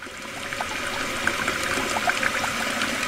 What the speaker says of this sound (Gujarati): પાણી આવ્યું